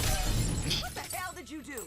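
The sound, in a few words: glass breaking in a Justice League War scene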